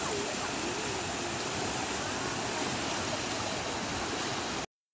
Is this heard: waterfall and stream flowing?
yes